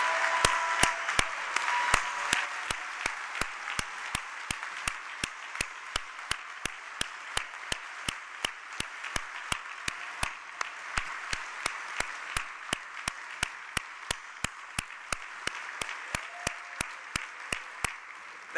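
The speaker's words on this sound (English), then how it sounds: "Please give it up if you would join me in applauding these outstanding city" An audience at a mayor's final State of the City address applauds city employees from the Fleet Management Department, with steady, sustained clapping that fades slightly over about eighteen seconds and is punctuated by sharp, evenly spaced ticks.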